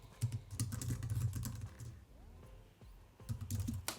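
Fingers tap quickly on a computer keyboard in bursts of soft close clicks, a short pause, then a final flurry of keystrokes, with no talking.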